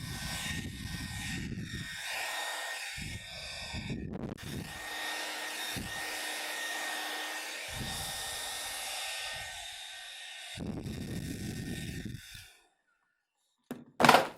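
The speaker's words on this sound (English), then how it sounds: "So I've got the hairdryer here. I'm gonna hold it away and turn it on." A hair dryer blows with a steady, loud whooshing roar for about twelve seconds, with a few soft thumps underneath, then clicks off abruptly.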